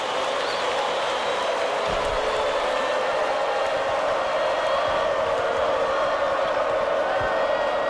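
Steady, dense crowd roar from a basketball arena in the College Basketball 2K8 video game, a continuous loud wash of cheering with no clear breaks, holding at the same level throughout.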